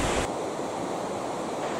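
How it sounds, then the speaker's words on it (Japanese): River flowing through Kiyotsu Gorge in Niigata, a steady broad rushing wash, close and fairly loud, with no talk over it. "川の音を聞くと自然を感じます。"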